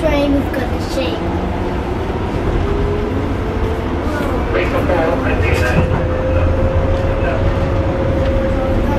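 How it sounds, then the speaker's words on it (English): A London train rumbles along at close range, its carriage rattling and shaking with a steady low roar and occasional clacks and squeals. "The train is gonna shake."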